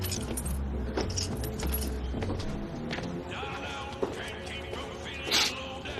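Car keys jangle near and clear over a steady low engine rumble inside a vehicle, with brief metallic clinks and a louder rattle toward the end.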